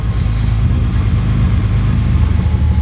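A Datsun 280Z engine fitted with a FAST EZ-EFI retrofit idles loud and close during idle adjustment, a steady low rumble with no speech.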